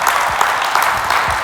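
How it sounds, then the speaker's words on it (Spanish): A church congregation applauding loudly, a continuous dense clapping that stays full and even throughout the short stretch. "Le hace aplauso fuerte como esa iglesia que se va"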